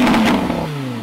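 The V10 engine of a Rhino RR01 kit car, shared with the Lamborghini Huracan and fitted with a sequential transmission, gives a loud close rev that peaks and then falls away in a descending exhaust note.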